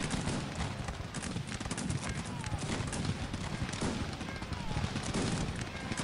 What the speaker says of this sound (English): they make horse sounds.